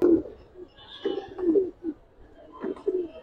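Giribaz racing pigeons, silver and red varieties, coo repeatedly in low throaty rolling phrases, close and fairly loud, with no talking over them.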